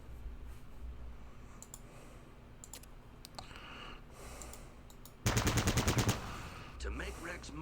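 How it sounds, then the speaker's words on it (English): Gunfire at a training dummy in the Fallout Tactics video game: a sharp, loud rapid burst of shots in the later part, preceded by scattered interface clicks over a faint hum. "Target the dummy, and left-click to fire at it."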